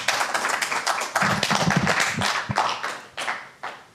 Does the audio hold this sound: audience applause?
yes